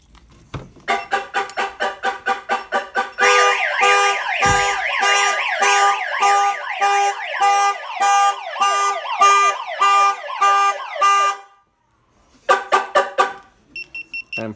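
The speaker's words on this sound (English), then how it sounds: "We also added a bullhorn siren to make it noisier." Viper 5305V car alarm with an added bullhorn siren on a 1999-2006 Chevy Tahoe: a run of loud rapid chirps, then a blaring cycling siren with shifting warble tones for about eight seconds, a brief pause, then more siren bursts.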